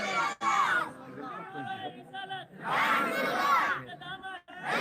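A large crowd at a religious gathering roars out slogans in unison, two loud surging bursts of massed voices with quieter crowd murmur between them.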